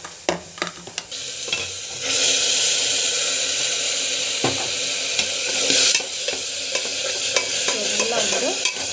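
Asafoetida and rock salt sautéing in a hot pan while being stirred, a steady close sizzle with scraping stir strokes and occasional clinks, no talking.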